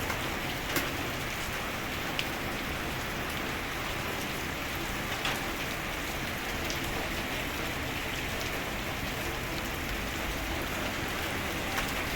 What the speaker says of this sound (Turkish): şu anda demirci şiddetli yağmur yağıyor